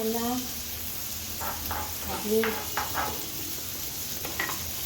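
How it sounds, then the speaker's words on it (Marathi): Masala-coated brinjal fries in a pan, a steady close sizzle beneath someone talking, with a few light stirring clinks. "मसाला लावून घेते आणि एकीकडे तळण्यासाठी ठेवत आहे"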